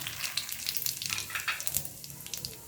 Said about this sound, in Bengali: এখন আমি ফোড়নে দেব গোটা জিরে আর 2টো তেজপাতা